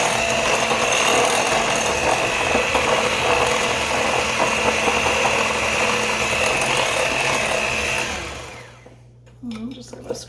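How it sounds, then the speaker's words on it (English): An electric hand mixer beats eggs into chocolate oatmeal cake batter, a steady loud whirring drone that runs close and constant for about eight seconds before cutting out, leaving quieter room sound and a brief voice. "You just want to beat this till the eggs are nicely combined in here."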